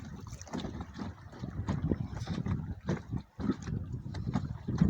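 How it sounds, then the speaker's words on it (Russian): Wind gusts on the Ukhta river during a fishing trip buffet the microphone in uneven, rumbling bursts, a low rough roar that swells and drops throughout. "Ветер, все ветер."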